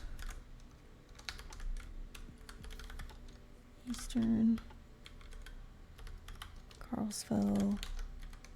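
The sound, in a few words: typing on a computer keyboard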